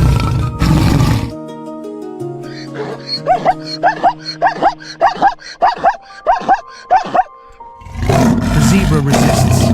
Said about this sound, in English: Victorious roars rise into the sky, an ancient song of triumph.